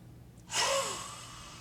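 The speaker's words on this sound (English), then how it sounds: "as you breathe out, you're roaring" One forceful, open-throated exhale in a vocal warm-up breathing exercise, with a rough, roaring breathy quality, rising suddenly and then trailing off.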